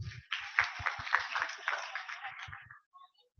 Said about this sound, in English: Can we have a round of applause for Deep?